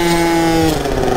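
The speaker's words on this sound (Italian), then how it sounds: "Sentite per questi vicoli quanto rimbomba il motore" A loud, steady motorcycle engine droning close by in a narrow alley, its hum reverberating off the nearby walls.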